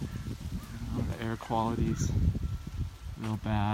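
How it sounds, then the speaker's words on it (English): Birds squawking in a wildfire-burned neighborhood in Santa Rosa, California, harsh cawing calls repeating a few times beneath someone talking close by. "You can hear the birds squawking."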